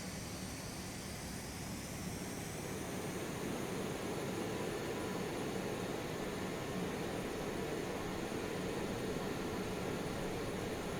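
BAe RJ100 jet engines in the FSX flight simulator hold a steady, even, fairly quiet broadband roar as they are set to takeoff thrust, with no talk over it.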